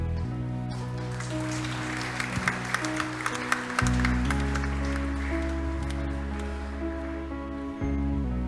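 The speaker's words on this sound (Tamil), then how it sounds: "கை தட்டிட்டோம்" Audience applause in a church after a catechism performance during a Tamil Sunday service, a steady wash of many hands clapping for the whole stretch over a low hum, with a brief lull and swell midway.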